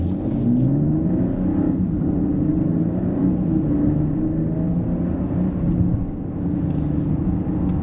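A 2025 Mercedes GLE 450 4MATIC Coupé accelerates hard in a 0 to 60 run, its engine note climbing steadily with rising harmonics and a brief dip at a gear change, heard loud from inside the cabin.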